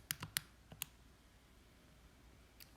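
A handful of light plastic clicks from buttons pressed on a calculator, spaced irregularly, close but faint, with a quiet pause before one last soft tap.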